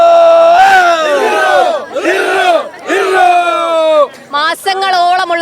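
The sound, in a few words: students' celebratory cheering and shouting after winning cup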